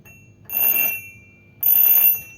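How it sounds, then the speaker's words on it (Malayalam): A homemade LED sensor burglar alarm goes off during a test, giving two loud, shrill electronic ringing bursts, each about half a second long, with a short pause between them and no voices. "കള്ളന്മാർ ഏത് വഴി കൂടെ കയറിയാലും അലാറം വർക്ക് ചെയ്യും."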